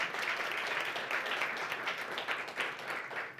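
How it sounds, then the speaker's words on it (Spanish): Conference audience applauds after a keynote talk by Pilar Fajarnes: a soft, continuous wash of clapping from a seated crowd, heard at a moderate distance and staying fairly even throughout. "Un aplauso para Pilar,"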